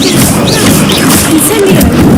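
A fire spell cast in Hogwarts Legacy, a dense, loud roaring rush of flame with crackling bursts that runs steadily through the whole short stretch, with no voices.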